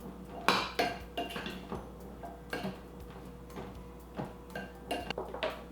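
Chickpeas and potatoes with spices stirred in a pan, heard as a series of close utensil scrapes, clicks and light clinks against the pan, irregular and moderately loud, with no voices.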